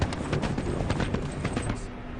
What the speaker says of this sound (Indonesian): ketika seekor kuda datang tanpa penunggang mendekat